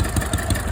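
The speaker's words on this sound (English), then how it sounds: "this is an old Caterpillar, early 30s Caterpillar model" An early 1930s Caterpillar engine, a small gas air-cooled power unit, chugging at idle with rhythmic low thumps about five times a second, loud and close, with no voices over it.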